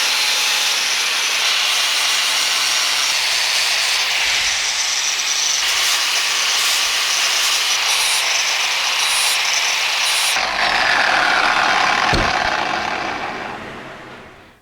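A grinder cuts into a dragon glass blade with a loud, steady hiss and whine. The noise runs continuously and shifts in tone partway through, then fades out at the end.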